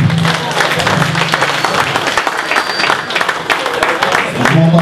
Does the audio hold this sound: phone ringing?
no